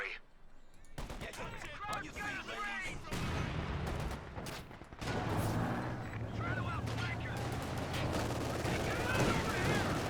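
Rifle grenade blasts and .50 cal machine-gun fire from a Company of Heroes 2 match, dense bursts of rapid shots and booms layered over continuous battle noise, loud and sustained, with a voice talking over parts of it.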